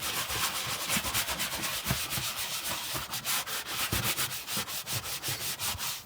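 A brush scrubs a leather car seat in quick rhythmic strokes, a close, soft swishing that keeps a brisk back-and-forth pace with no talk.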